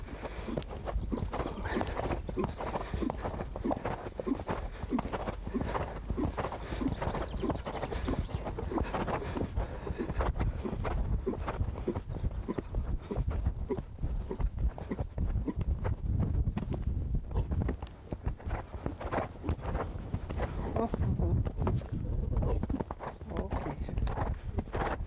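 A six-year-old Selle Français stallion canters through a show-jumping training session, hooves thudding in a steady, continuous rhythm close by over a long stretch, with a rider talking over it throughout.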